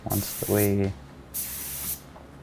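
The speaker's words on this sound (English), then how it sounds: "once I've done a test spray on that piece of metal here" Two bursts of a spray gun test-spraying Cerakote onto a piece of metal hiss loudly, separated by a brief harmonic whine and a short pause, close up.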